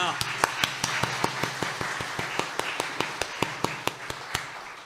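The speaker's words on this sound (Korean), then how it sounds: "하나님께 영광의 박수를 올려드리겠습니다" Rhythmic unison clapping from a congregation during a church worship service, steady evenly spaced claps repeating about four times per second for the whole stretch, fairly close, over a low background hum.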